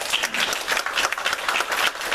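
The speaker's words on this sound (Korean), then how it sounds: "박수로 환영하겠습니다." A church congregation at a Sunday service claps together to welcome a newcomer, a dense, steady round of applause filling the room with no break.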